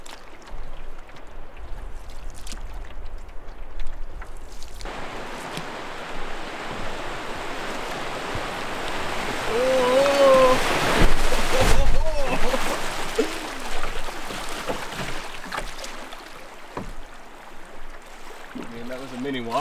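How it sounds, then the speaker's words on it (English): Canoe running fast water over a mini waterfall on a lake route in Wabakimi wilderness, with rushing, splashing water swelling louder midway, close by, and brief paddle splashes. "That was a mini waterfall"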